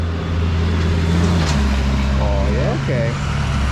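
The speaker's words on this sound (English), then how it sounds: "Big truck." A large truck rumbles past nearby with a heavy, steady engine drone, while a person speaks briefly over it.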